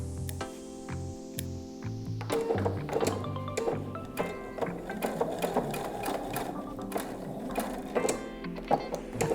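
A sewing machine stitches and back-tacks while sewing single welt pockets: short rhythmic motor bursts, then a steady close mechanical whir with rapid needle clatter.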